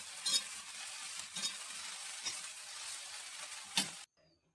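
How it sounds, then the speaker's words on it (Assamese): Radish greens frying in a pan, a soft steady sizzle punctuated by a few sharp stirring scrapes, cutting off abruptly near the end. "মূলা শাক ভাজি অকমান"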